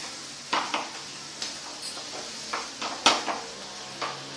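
Carrot halwa mixed with powder is stirred in a pan, a series of scraping and clinking strokes of the spoon against metal, fairly close and irregularly spaced, over a faint sizzle with no talk.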